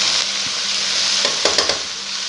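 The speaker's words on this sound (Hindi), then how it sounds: "इसकी भुनाई करेंगे हम यहाँ पे अच्छे से प्याज़ों के साथ।" Spices and onions fry in a pan for a desi-style vegetable spaghetti, a steady close sizzle with a few soft stirring scrapes near the end.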